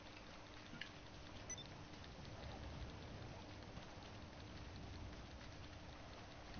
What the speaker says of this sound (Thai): โอ้โหฝนตกน้ำบนแอ่งสวยสวยโอ้โห